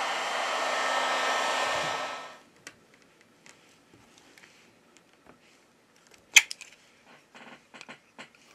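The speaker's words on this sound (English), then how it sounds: "we apply heat to the device to remove the battery cover." A heat gun blows a steady, loud rush of air onto the back of an LG Wing 5G phone for about two seconds, then cuts off, followed by faint ticks and a few small clicks.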